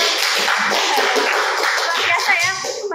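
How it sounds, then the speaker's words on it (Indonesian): Audience applause for guest speakers at a school podcast event, a dense burst of hand clapping that carries throughout, with a few voices mixed in underneath. "tepuk tangan untuk orang hebat di sini dong"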